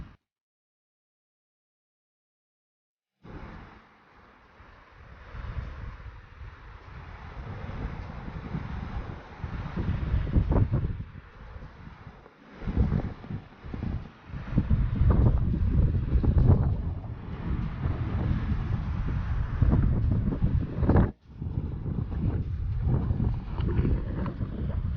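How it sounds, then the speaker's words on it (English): Strong wind gusts buffet the microphone outdoors at a lakeside Easter campsite, producing a heavy, uneven roar that swells and drops after a few silent seconds at the start. "Very windy today"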